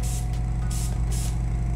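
Ceramic coating sprayed onto the wheels of a 2021 Acura RDX A-Spec with Vossen HF-5 rims, heard as three short hissing bursts over a steady low mechanical hum, close and fairly loud.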